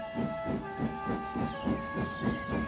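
A steam locomotive hisses as it steams in, with an even, rhythmic pulse of chuffs about three per second under steady whistle-like tones, continuous and fairly loud.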